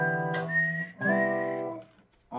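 A person whistles the melody of a song's intro, clear tones gliding between pitches in a short phrase, close and fairly loud.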